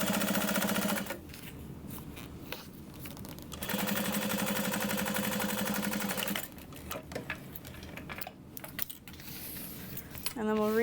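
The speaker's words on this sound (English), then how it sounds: "top stitch through exterior and lining" A sewing machine topstitches through a bag's exterior fabric and lining in two sustained runs of fast, even whirring, separated by quieter handling and clicks, with a brief voice near the end.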